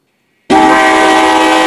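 A train horn sound for an MTH Proto model locomotive blasts in suddenly and loud, holding a steady multi-note chord with no voices.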